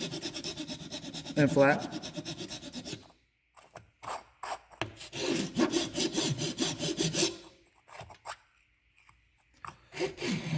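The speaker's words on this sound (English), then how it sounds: "I'm just using a regular file. File this down smooth" Hand file rasping across a broken Ram Mount plastic phone holder to smooth it, in bursts of quick back-and-forth strokes separated by pauses, close and fairly quiet, with a brief spoken word.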